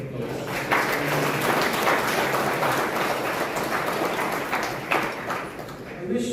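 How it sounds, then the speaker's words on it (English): Audience applause fills the hall at an awards gala celebrating tourism in Guyana: a dense, steady wash of many hands clapping for about six seconds, with voices mixed into the crowd noise. "I think she deserves a round of applause."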